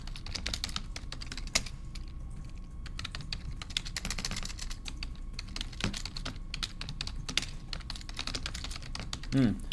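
Steady, rapid clicking of keys on a computer keyboard during a Haskell programming session, close and continuous for several seconds with a few louder taps and no talk.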